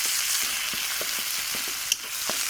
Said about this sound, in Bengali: ওই মাছ ভাজার তেলে আমি এই জিরে বাটা মশলাটা আগে আমি একটু ভেজে নিয়ে